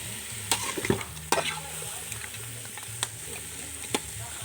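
Chicken being stir-fried in a pan, a soft steady sizzle broken by sharp scraping and clacking strokes of a utensil against the pan at irregular intervals.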